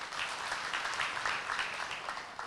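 A church congregation applauding, a dense, steady clatter of many hands clapping together, moderately loud and continuous with no voices over it.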